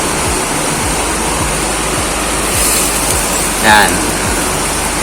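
Water runs and drips steadily off a ring used as a semi splash guard, a continuous wash of splashing with faint regular ticks underneath, while a voice briefly speaks over it.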